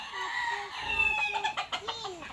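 Chickens cluck and call close by during feeding time, short repeated clucks with a rooster-like note, against rustling and outdoor background noise.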